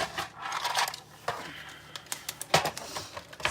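Card stock being trimmed to size for a handmade Christmas card, heard as a series of short, close clicks and scraping cuts at an irregular pace, fairly quiet.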